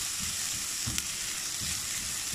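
Seeded, chopped green chillies frying in a pan for vegetable spring rolls, giving a constant close sizzle with soft stirring movements and one small clink.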